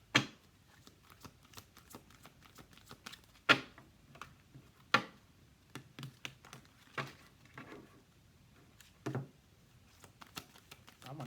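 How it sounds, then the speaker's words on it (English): Tarot cards are shuffled close up in irregular bursts of crisp riffles and slaps, with sharper snaps now and then between quieter rustling. "I'm going to shuffle these up some more"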